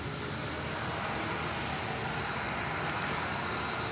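Jet aircraft, an Embraer E190, at Perth Airport: a steady broadband engine roar held at an even level throughout, moderately distant, with no voices.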